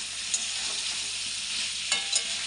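Rohu fish curry masala with a spoon of cumin powder sautéing in a pan gives a continuous bright sizzle, broken by a few quick scrapes of a stirring spoon near the end.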